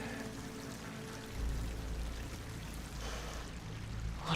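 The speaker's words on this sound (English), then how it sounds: "Water's coming in." Water pours and trickles steadily into a sealed chamber with slick walls in Horizon Forbidden West, a low rushing flow that swells midway and holds over a faint ambient bed, no voices.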